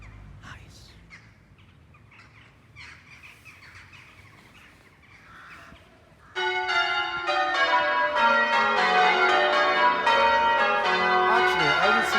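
Church bells of St. John the Baptist church in Tideswell burst into loud, continuous ringing midway, overlapping rich peals after a quieter stretch of outdoor ambience with faint bird calls.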